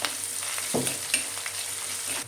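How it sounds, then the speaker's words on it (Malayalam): Garlic and ginger sautéing in a pan with green chillies, a continuous bright sizzle with a few soft scrapes of a spoon stirring, close and even throughout. "വെളുത്തുള്ളി, ഇഞ്ചി ചേർത്ത് കൊടുക്കും. നന്നായിട്ട് വഴറ്റണം."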